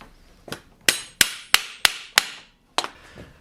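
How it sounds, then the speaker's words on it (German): A hammer knocks a rod fitted with two washers into a Bosch POF 1200 AE router, giving seven sharp, close metallic blows at an uneven rhythm, mostly about a third of a second apart, with a pause before the last. "machen die Stange da rein und kloppen mit dem Hammer drauf"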